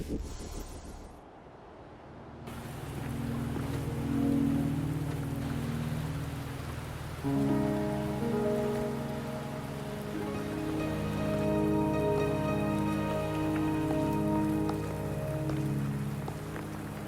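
Steady rain pattering on surfaces in the video game Wuthering Waves, a close, continuous hiss of drops with soft layered music tones underneath and no talk.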